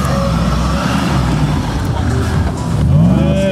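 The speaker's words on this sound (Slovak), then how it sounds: "Ide si to vozidlo tak, ako má." Jeep Wrangler 4x4 driving off-road at the 2024 Hruštín off-road time trial, a steady loud engine roar that swells near the end, with someone talking over it.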